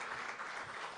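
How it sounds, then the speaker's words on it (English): A brief burst of audience applause at a business and sports talk event, steady and fairly quiet throughout with no talking over it. "A big round of applause once again."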